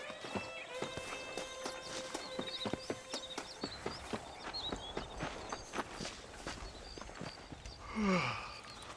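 Horse hooves clip-clopping at a steady gallop while riding in Red Dead Redemption, the footfalls dense and continuous, with a short snort or whinny near the end.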